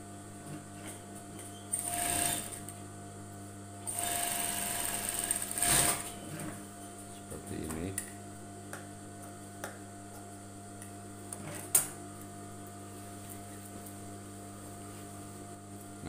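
Sewing machine stitching the lower part of an A-line skirt, running in a few short bursts with pauses between them, close up with no talk.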